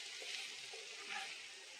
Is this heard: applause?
no